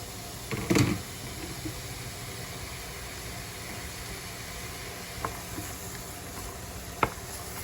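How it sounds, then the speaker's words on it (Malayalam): Chopped onions sizzle in hot oil in a pan, a steady, close frying hiss with a louder clatter near the start and a few sharp taps from stirring. "നമുക്ക് എണ്ണ ചൂടാകുമ്പോൾ അതിലേക്ക് കട്ട് ചെയ്ത് വെച്ചിരിക്കുന്ന സവോള ചേർക്കുക"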